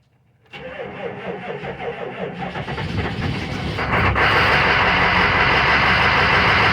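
A 1995 Chevy K3500 with a 6.5L turbo diesel, recently fitted with a new cylinder head gasket, cranks briefly and fires up, settling into a loud, steady diesel clatter that builds and stays close.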